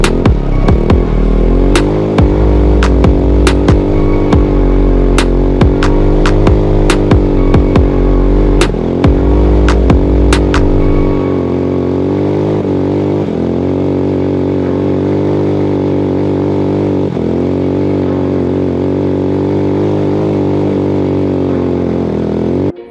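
A Hammerhead GTS 150 go-kart engine drones loudly and steadily while spinning donuts, its pitch wavering with throttle, with sharp clicks and knocks in the first half before settling into a smoother hum.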